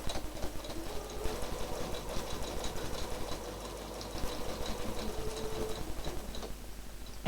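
A sewing machine stitches in the ditch on a quilt, a fast, even mechanical ticking and whirring that runs steadily and fairly quietly throughout, with no talking.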